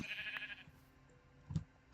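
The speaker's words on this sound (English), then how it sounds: "there's another sheep over here" A Minecraft sheep bleats in the video game, a short, moderately faint bleat near the start, with a soft thump of game sounds later.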